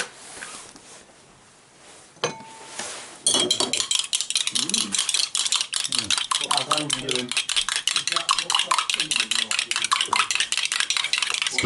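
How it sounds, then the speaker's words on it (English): A couple of eggs whisked briskly in a cup, a fast steady run of metallic clinks against the sides that carries on to the end, starting after a quieter stretch with faint background noise. "I'm just cracking a couple of eggs into a cup and I'm going to whisk them up"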